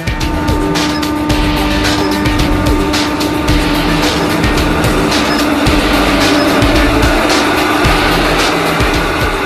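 A tyre turning under extra load and extra heat on a test machine gives a loud, steady mechanical roar with a constant hum and rumble, close and unbroken throughout, with no talk.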